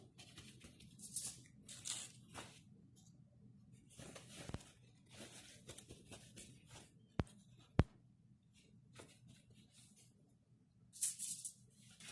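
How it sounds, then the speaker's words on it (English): Salmon fillet being patted dry with a paper towel in a home kitchen, giving soft, quiet papery rustles and dabs in short bursts with brief pauses, close and faint. "A paper towel to pat dry the salmon."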